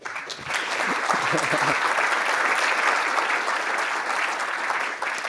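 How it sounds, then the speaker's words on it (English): Audience applause at a Python programming talk, a dense, sustained burst of many hands clapping that swells quickly after a brief voice and carries steadily for several seconds. "Give him a round of applause."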